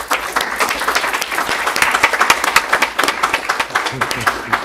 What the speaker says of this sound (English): let's give Mr. Brook a nice round of applause